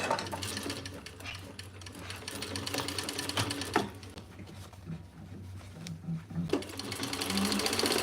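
A sewing machine stitches a bag pocket closed, running in steady rapid bursts up close with brief pauses and light handling clicks between runs.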